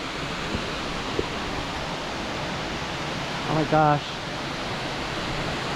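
Steady broadband roar of Love Waterfall in Hoang Lien National Park near Sapa, Vietnam, heard up close and continuous throughout, with a brief excited exclamation from a voice partway through.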